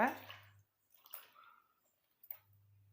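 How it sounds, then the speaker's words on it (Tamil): Flowers are rinsed by hand in water for a homemade hair preparation, giving a few short, quiet bursts of squishing and dripping separated by near silence, over a low steady hum. "இப்போது இந்த மாதிரி வந்து பூவை எடுத்து நல்லா தண்ணியில் போட்டு அலசிக்கோங்க"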